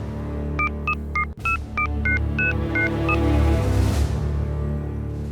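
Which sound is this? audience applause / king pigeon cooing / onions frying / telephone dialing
telephone dialing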